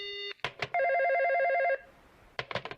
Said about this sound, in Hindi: लगता है दूसरी कॉल आ रही है।